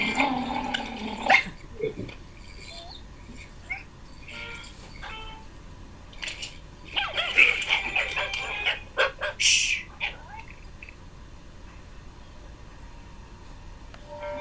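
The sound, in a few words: dog barking while chasing away a bird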